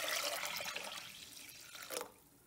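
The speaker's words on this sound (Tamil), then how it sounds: "நான் 6 கப்பு தண்ணி ஊற்றுறேன்" Water poured into a pressure cooker holding rice and toor dal for sambar rice, a steady splashing pour that runs loud then tapers off, with a brief renewed gush near the end.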